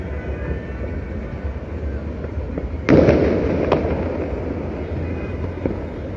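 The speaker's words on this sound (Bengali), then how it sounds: "রাজধানীতে কিন্তু আতসবাজি থেমে নেই অর্থাৎ একের পর এক বাসাবাড়ির ছাদ থেকে কিন্তু আতসবাজি ফুটছে" Fireworks set off from rooftops across Dhaka on New Year's Eve; a loud burst and crackle hits suddenly and decays, followed by fainter distant pops over a low city rumble.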